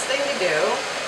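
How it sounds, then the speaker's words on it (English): A blow dryer warms the adhesive on tape-in hair extensions, giving a brief, steady, close airy whoosh with a faint whine. "do is warm it up with your blow dryer"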